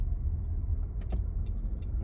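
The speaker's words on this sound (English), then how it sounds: "The FedEx truck went right." A FedEx delivery truck rolls past on a street, a steady low engine rumble and tyre noise, fairly close, with a brief brake hiss near the middle and no talking.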